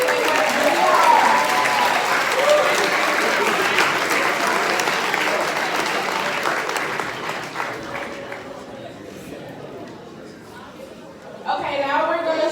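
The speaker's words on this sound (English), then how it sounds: "Can we just give them all one more round of applause?" A crowd at a chess club's all-city team awards ceremony gives a full, sustained round of applause for the student players; it gradually fades out, and then a voice speaks.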